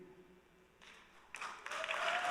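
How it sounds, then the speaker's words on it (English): Audience applause at a Bronx rent board public hearing swells from faint scattered claps into louder, denser clapping over a couple of seconds. "clap it up for that"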